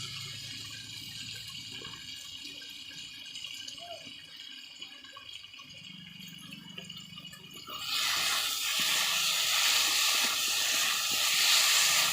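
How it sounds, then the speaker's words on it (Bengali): Water poured into a hot pan of potatoes and fish being cooked for a Bengali fish curry bursts into a loud, steady hiss and bubbling that swells partway through and holds to the end, after a quieter stretch of low cooking noise. "এরপরে এতে আমি জলটা ঢেলে দিলাম"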